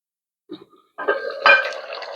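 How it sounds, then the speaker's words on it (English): A lid is set on a cooking pot of bitterleaf soup with fish and tomatoes: a soft clink, then a louder metallic clatter and rattle at close range, followed by a lingering scrape. "we will cover the pot and let the tomatoes and the fish cook"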